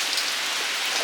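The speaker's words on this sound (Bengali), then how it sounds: "বন্ধুরা এই দেখুন বৃষ্টি হচ্ছে" Rain falls on a roof during a stormy spell, a steady, even, close-up patter and hiss with no talking.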